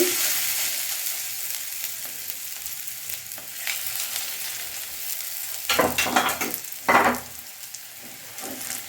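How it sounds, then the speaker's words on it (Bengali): Potato and carrot egg batter is poured into hot soybean oil, where a quiet sizzle erupts into louder crackling bursts, then settles back into a softer fry. "এখন আমি আলু এবং গাজরের ব্যাটারটা দিয়ে দিচ্ছি।"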